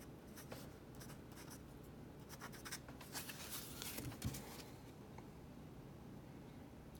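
A Lamy LX fountain pen scratches steadily across paper in a close, quiet series of faint strokes and small ticks, no voices present.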